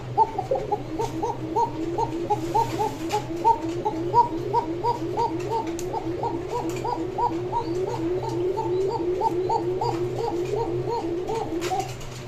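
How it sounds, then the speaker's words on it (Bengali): A pair of Koka pigeons coo close by in a long, steady run of repeated throaty coos, a low hum underneath, with occasional faint clicks and rustles. "একজোড়া কোকা কবুতর, ডাক শুনলেন প্রথমেই"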